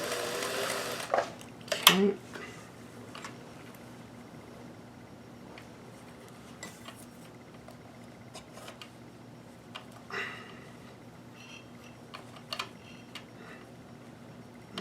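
A Singer 431G sewing machine stitches lace onto a bodice, a quiet steady mechanical whir with soft ticking. It runs throughout, broken by a few sharper clicks and knocks, and low talk is heard now and then.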